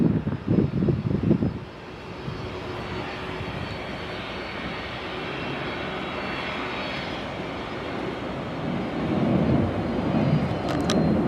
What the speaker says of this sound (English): The 757-300 variant, taking off from runway 22 left.